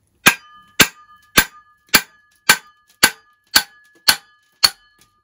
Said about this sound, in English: I need to whack it quite hard, I think.